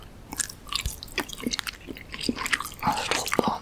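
Food is bitten and chewed up close during a blind tasting, with crisp crunches and wet chomping in an uneven rhythm of bites.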